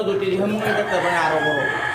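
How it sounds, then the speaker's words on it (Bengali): Crested chickens on a poultry farm crow and cluck close by, a dense, continuous jumble of overlapping calls with possible voices mixed in. "এ দেখেন কত সুন্দর মুরগি"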